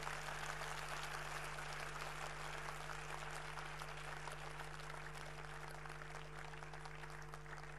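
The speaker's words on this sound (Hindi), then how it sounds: "जरा जोरदार ताली बजाओ जो ताली बजा रहे हो तो।" Large seated audience at a talk clapping enthusiastically, a dense continuous wash of applause over a steady low electrical hum, sustained for several seconds.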